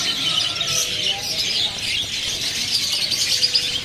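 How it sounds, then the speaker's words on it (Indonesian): White-shouldered triller (kapasan kemiri) chirping at a bird market, a steady bright twittering that runs without a break amid a busy chorus of other caged birds. "di sini juga ada burung kapasan kemiri ya"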